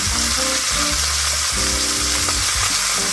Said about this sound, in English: what we're wanting to do is sear the roast.